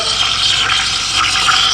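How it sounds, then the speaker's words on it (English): Profitec GO II espresso machine steam wand stretching milk in a jug, a continuous loud hissing and gurgling rush of steam and air with no pauses, close up. "you always get that sound at the beginning, that little bit of excess water, and stretching the milk"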